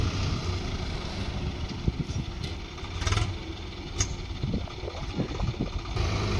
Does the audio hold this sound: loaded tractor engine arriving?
yes